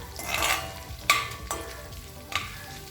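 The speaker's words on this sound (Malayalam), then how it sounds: "ഇനി നമ്മുടെ ഇഞ്ചി വെളുത്തുള്ളിയുടെ പച്ചമണം മാറുന്നവരേക്കും ഒന്ന് നന്നായിട്ട് വഴറ്റി കൊടുക്കാം" Ginger garlic paste sautés in a pan for a homestyle egg curry, hissing steadily up close while a spoon gives several sharp stirring clacks.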